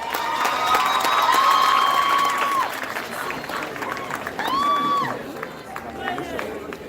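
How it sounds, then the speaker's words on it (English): A graduation crowd gives the guest speaker, a past student, another round of applause: loud clapping and cheering with crowd noise, mixed with whistles or tonal calls and some voices, swelling then easing slightly. "A round of applause for her again."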